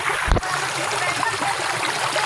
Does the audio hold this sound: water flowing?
yes